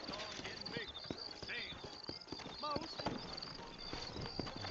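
Horse hooves clip-clop steadily in the game Red Dead Redemption, with voices talking over the rhythmic clatter.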